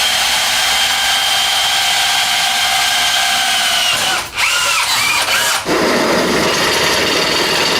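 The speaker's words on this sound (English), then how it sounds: "So I got the pieces drilled out, ready to set up on the bike." A power drill runs loud and steady for most of the stretch, drilling motorcycle triple tree pieces for a land speed bike, with two brief dips where the motor eases off before it carries on.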